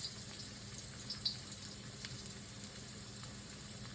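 Ginger frying in hot oil in a wok, a steady soft sizzle and crackle with a few small pops, fairly quiet and continuous with no voices.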